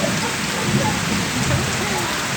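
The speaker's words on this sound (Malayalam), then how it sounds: "നല്ല മഴയാണ്" Dense, heavy thunderstorm rain pours down steadily, a loud continuous hiss of drops hitting surfaces with no break.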